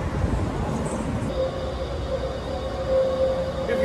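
Loud, steady rumble of an underground train at Atlanta's Peachtree Center station, with a rising mechanical whine and faint squealing tones echoing in an enclosed space.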